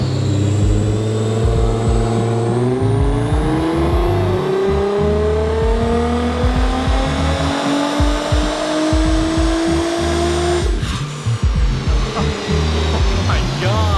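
Nissan R35 GTR engine revving hard on a dyno, a loud rising roar climbing steadily in pitch through the gears, then a sharp drop and turbo flutter as it backs off, with voices talking underneath.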